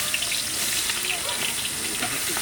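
Onions frying in hot oil in a home kitchen on a rainy day, a steady close broadband sizzle with faint crackles and occasional stirring noises throughout, without any talking.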